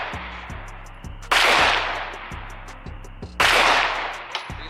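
Two loud, close Glock pistol shots at a shooting range, each a sharp crack with a decaying echo, set against a steady rhythm of faint repeating taps from nearby.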